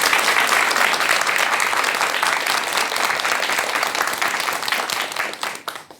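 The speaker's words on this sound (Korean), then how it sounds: "여러분 큰 박수와 함께 지금부터 도현 스님의 강연 청해 듣도록 하겠습니다." Audience applause welcomes a monk's lecture in a Korean hall, a dense, steady wash of many hands clapping that holds loud for several seconds, then thins and fades at the end.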